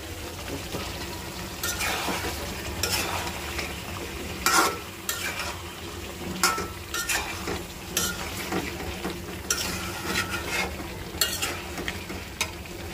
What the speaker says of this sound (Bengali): এই যে মশলা কষাতেছি, না মাংস কষাতেছি